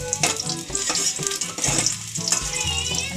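Ginger and garlic fry in a pan with loud, crackling sizzles up close. Stirring scrapes and clatters come in bursts throughout, with no talking.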